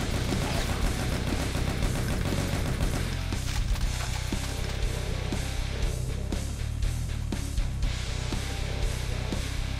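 Rapid gunfire in the Brutal Doom video game: dense, loud bursts of shots and clattering impacts over a heavy low rumble, continuous for the whole stretch with no talk.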